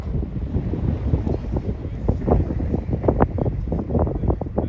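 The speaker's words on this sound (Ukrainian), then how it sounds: "Сильний вітер, але будемо пристосовуватись до." Strong wind gusts at an outdoor youth football match batter the microphone in loud, uneven rumbling bursts, close and continuous for the whole stretch.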